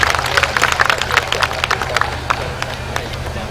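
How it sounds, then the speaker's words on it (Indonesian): An audience claps for Bali at an official tourism event, scattered hand claps rattling through a broad room murmur and thinning out toward the end. "Boleh tepuk tangan lagi untuk Bali"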